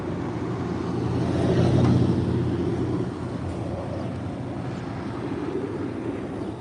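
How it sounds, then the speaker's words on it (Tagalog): Fast cars rush past on a road near a beach pier, one passing vehicle swelling loudly and fading within a couple of seconds over a steady traffic rumble. "Bibilis ng sasakyan, nakakatakot."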